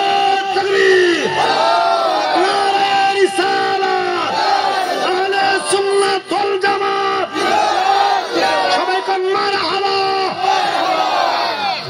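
A large crowd at a Bengali religious gathering roars Allahu Akbar in repeated loud, rhythmic chanted waves answering a takbir call, many voices together with occasional individual shouts.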